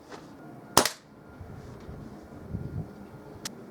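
A Kral NP02 air rifle fires a single sharp, close crack at a target, followed by a faint short tick a few seconds later against quiet room noise.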